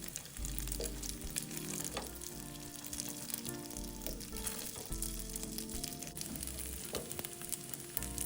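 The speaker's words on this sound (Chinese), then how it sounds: "用低火慢慢煎香。" Taro peach kueh pan-fries slowly in a little oil in a nonstick pan over low heat, giving a faint, steady close sizzle with occasional soft crackles.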